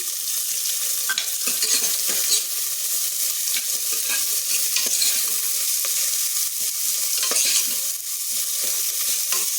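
Chopped medium onions sizzle in hot oil in a pan for palak rice, a close, steady frying hiss with scattered crackles and stirring scrapes throughout, and no talking.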